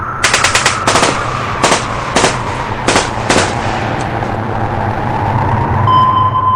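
Soldiers fire rifles in war footage, with sharp machine-gun bursts and single shots cracking loudly in the first few seconds before fading into a low hum, no voices.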